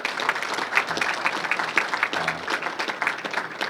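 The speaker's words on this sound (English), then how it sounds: "that's worth a round of applause" Audience applause at a talk about NASCAR history, a steady dense clapping from a crowd filling the whole stretch without pause.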